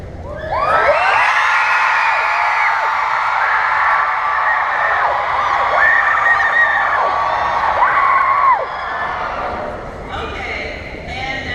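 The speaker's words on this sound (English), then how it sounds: "So give me your craziest screams in 2 seconds. And hold it for 10 seconds." A large VidCon convention crowd screams together in one sustained, loud, high-pitched roar that holds for several seconds and then drops off, leaving scattered shouts.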